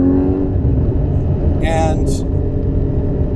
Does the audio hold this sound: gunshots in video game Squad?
no